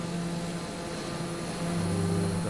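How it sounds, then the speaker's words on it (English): A jet flies close by in Microsoft Flight Simulator, a steady engine roar that swells slightly louder toward the end, with no talking. "I hear another jet very close to me as well."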